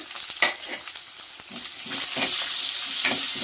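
Chopped onion and coriander fry in a pan for a yogurt curry, with a loud, close sizzle that swells midway and is broken by brief stirring scrapes and clicks, with no talk.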